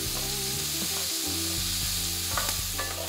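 Steady close sizzling from food sautéing in an Instant Pot pan after turkey was browned in it, with occasional stirring clinks and a faint tonal hum underneath, no voices.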